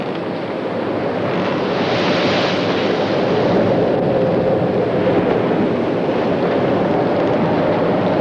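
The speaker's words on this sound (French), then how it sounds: "Jean du Sud se paye des pointes à 8 nœuds en dévalant la grande houle d'ouest" A sailboat surges down a big westerly ocean swell in a south-southwest force 5 to 6 wind, with a steady loud roar of rushing water and wind that builds and eases slightly, with no voices.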